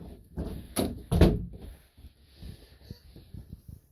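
A door on a 2008 Nuwa Hitchhiker Champagne edition RV swings and shuts with two close, solid thunks, followed by lighter rattles and clicks as it settles.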